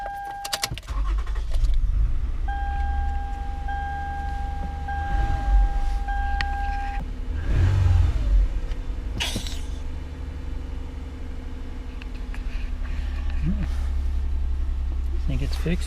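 A 2007 Toyota engine, just cleared of a P0354 ignition coil trouble code, cranks and starts midway, then idles steadily close by, with people talking around the car and brief mechanical clicks.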